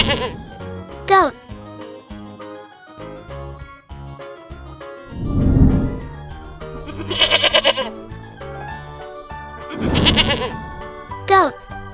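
A goat bleats several times over background music in a children's farm-animal learning song, with chimes and a voice around the calls, which come in bursts near the middle and end.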